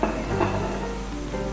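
Garlic ginger paste drops into hot oil and sizzles softly and steadily while a spoon stirs it, a quiet continuous frying hiss over a low background hum.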